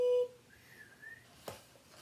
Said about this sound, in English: blowing his whistle. Tweet!